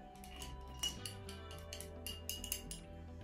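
A spoon stirring red and yellow coloured water in a jug, producing light clinks and taps against the container in an uneven rhythm, close and fairly quiet with a soft background hum.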